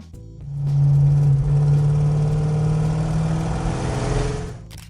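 A 1970 Pontiac GTO muscle car engine, a deep rumbling rev that swells quickly, holds a loud throaty drone, then eases back down near the end, heard up close with no talk.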